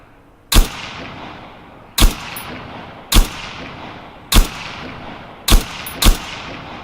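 Six loud, sharp ASP-1 Kir rifle shots from the Arma 3 video game, fired one at a time at roughly one-second intervals, each crack trailing off into a short echoing decay, with no talking.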